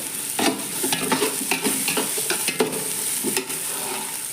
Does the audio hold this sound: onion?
yes